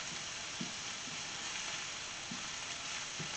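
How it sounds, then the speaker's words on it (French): Green onions frying in a pan, a steady soft sizzle with a few faint stirring clicks, heard close and alone without speech. "J'attends que mes oignons cuisent légèrement"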